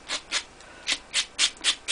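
Quick rhythmic rasping strokes, about seven in under two seconds, as a small sanding block scrubs back and forth against paper edges, close and dry.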